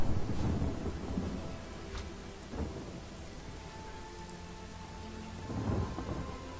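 Steady rain hisses in a fantasy role-playing game, Divinity: Original Sin, as low thunder rumbles roll in at the start and again near the end.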